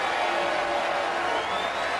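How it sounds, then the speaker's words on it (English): An arena crowd roars continuously at a Duke at Virginia Tech college men's basketball game, a dense, loud wash of cheering with no gaps over two seconds. "Crowd cheers as Robinson returns."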